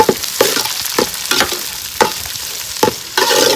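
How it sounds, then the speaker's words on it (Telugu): Sliced onions for onion rice sizzle in a pan, broken by repeated scraping stirs every half second or so, close and clear with no voices. "ఉల్లిగడ్డలు వేసుకుందామండి"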